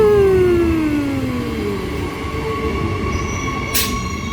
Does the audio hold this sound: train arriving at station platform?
yes